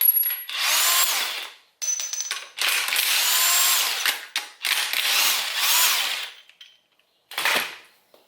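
A power tool whirs and rattles in several long, loud bursts with brief gaps, like an impact wrench spinning bolts loose from a Vortec 4200 engine in a Volvo 240 wagon, near and without talk.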